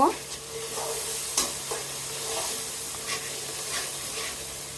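Spices with turmeric and chili powder, loosened with a little water, fry in a pan while stirred for a beef khichuri, a constant loud sizzle with repeated scraping strokes of the spoon.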